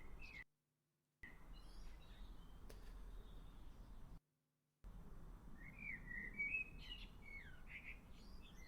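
A recording of birdsong plays quietly in the background, with scattered chirps and whistled calls over a faint steady hiss, broken by two short gaps of silence.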